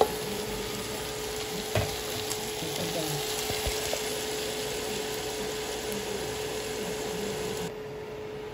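Vegetables and other ingredients sauté in a hot pan, giving a steady close sizzle with occasional scraping stir sounds throughout.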